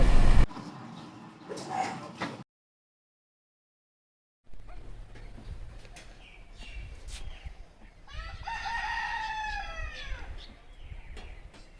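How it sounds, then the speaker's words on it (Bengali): A rooster crows at dawn near a tea garden in Dooars, with a river flowing nearby. A brief silence is followed by steady outdoor ambience, then a single clear, fairly close cock-a-doodle-doo rises and falls near the end. "নতুন একটা সকাল শুরু হচ্ছে মোরগের ডাক দিয়ে"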